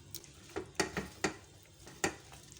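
Spoon stirring two spoons of tomato ketchup into paste for a homemade chicken pizza sauce, a handful of short scraping knocks against the pan at uneven intervals, close and fairly quiet with no talking.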